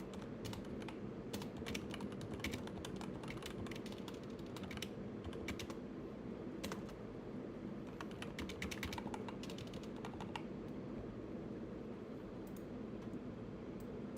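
Typing on a computer keyboard while writing Python code, a continuous run of close, soft key clicks at an irregular rhythm over a low background hum, with no talking.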